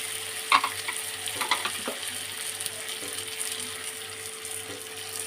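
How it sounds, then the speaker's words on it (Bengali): Mung dal poured into a hot pan with cooked fish head, giving a steady low sizzle with a few stirring scrapes and clinks early on. "মুগ ডালটা আমি ঢেলে দিলাম"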